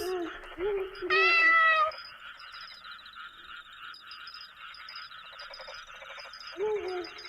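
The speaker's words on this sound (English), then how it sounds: "Heavens, that made me jump. It's only a kitty." A cat meows loudly and clearly in the horror visual novel game What Has Happened To Your Crush Sally, with a drawn-out harmonic cry over background game music and a person talking in the clip.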